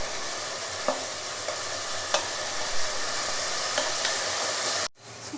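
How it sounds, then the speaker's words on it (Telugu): Finely chopped ginger pieces fry in a pan for a chicken curry, giving a loud, steady sizzle with a few sharp stirring clicks, then a brief sudden drop near the end before the sizzle resumes. "చిన్నగా కట్ చేసిన అల్లం ముక్కలు బాగా ఫ్రై చేయాలి"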